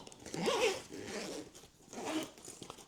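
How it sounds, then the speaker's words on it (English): An e-bike battery bag built to be fireproof is zipped shut in two quick rasping strokes, close to the microphone, with a short pause between them and no talking. "zip it up."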